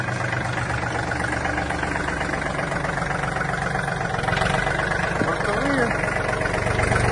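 A Yanmar US261 Japanese mini tractor engine idles with a steady, even low drone throughout, close and constant, with brief speech near the end.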